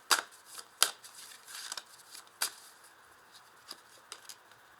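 Oracle cards being shuffled by hand in a series of quick, crisp riffling bursts with short pauses between them, close and fairly quiet, with no voices.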